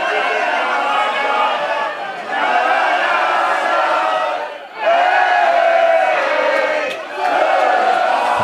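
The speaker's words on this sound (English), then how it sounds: "Burnside crowd are all over it" Rugby union grand final crowd, Burnside vs Brighton, shouting and roaring through an on-field scuffle. The noise is a dense, continuous roar that swells and briefly dips in waves.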